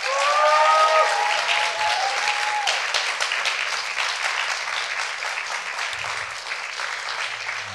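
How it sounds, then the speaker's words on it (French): A crowd applauds steadily for several seconds at a Christmas church celebration, dense clapping that starts strong and slowly tapers, with a few whoops early on. "Donc on peut applaudir notre Seigneur Jésus-Christ."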